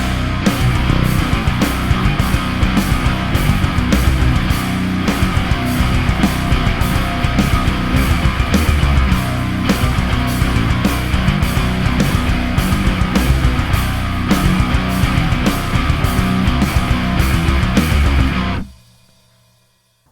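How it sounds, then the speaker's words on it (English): A distorted metal guitar riff built from groups of five sixteenth notes drives on loud and continuous with a steady pulsing attack for about eighteen seconds, then cuts off abruptly into silence. "I composed a riff for you with groups of 5/16 notes, and this one sounds like this."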